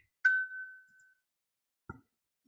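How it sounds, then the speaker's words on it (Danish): A mobile phone gives a single bright ding that rings out and fades over about a second, followed a moment later by a short low knock, otherwise quiet. "og min telefon bipper"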